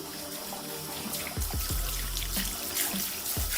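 Water runs from a tap while a hair system is rinsed under it, a steady splashing flow with a few deeper gurgles and plops partway through, close and fairly loud with no voices.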